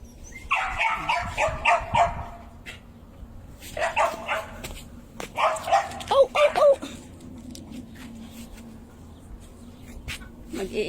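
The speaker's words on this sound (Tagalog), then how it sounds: "maingay tuloy si Doggy" A blind dog alone outside barks and yips in several short bursts, moderately close, with quiet pauses between them and faint background sound.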